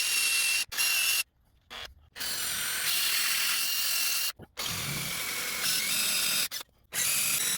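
Steady whirring of a power driver tapping threads and sinking screws into the back of a polyresin skull knob for a 1969 C10 e-brake pull, running in long bursts broken by brief pauses.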